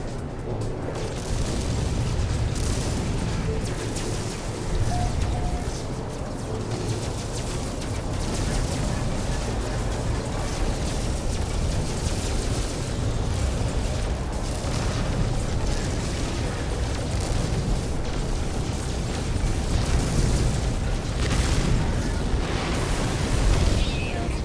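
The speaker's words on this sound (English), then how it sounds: "Enemy missile inbound." Missile explosions in a space game rumble as a steady, dense roar of booms and bursts across the whole stretch, with no quiet gaps and a few louder surges near the end.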